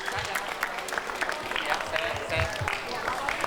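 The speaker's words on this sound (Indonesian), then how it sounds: "kita boleh tepuk tangan buat Kak Mawar semuanya" An audience claps for Kak Mawar in a classroom-style gathering with children, a steady dense patter of many hands running the whole time, with some voices mixed in.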